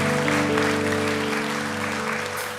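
A church congregation applauds together during a Sunday afternoon worship service, a dense, steady wash of clapping layered over sustained instrumental tones.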